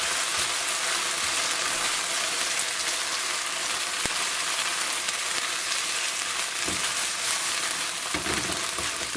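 Onions sizzle steadily in a pan for mushroom vegetable fried rice, a loud, even crackling hiss heard up close, broken by an occasional light knock or scrape.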